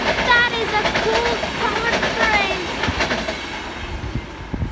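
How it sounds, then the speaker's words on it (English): Green passenger train of three-digit-numbered cars rolling past in Lamač, a steady loud rumble with repeating clickety-clack of wheels over rail joints, heard close by throughout. "3 digit cars, green train."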